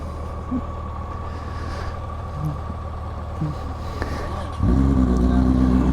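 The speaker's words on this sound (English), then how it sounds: "That is such a surreal feeling to hear that Goldwing, but I'm riding a Spyder." A Can-Am Spyder RTL fitted with a Honda Gold Wing engine idles with a steady low rumble, then the engine note swells and deepens near the end, heard up close.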